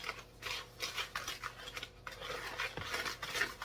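Lemon blueberry doughnut batter being mixed, with irregular clinks and scrapes of a utensil against a bowl, close and moderately loud with no talking.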